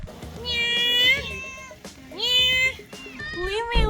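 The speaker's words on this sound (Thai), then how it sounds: "ญี่ปุ่นจ้าแมวญี่ปุ่น ขนนิ่มมากเลยอ่ะ" A cat meows several times up close in Okinawa, drawn-out and whiny, with short pauses between the calls.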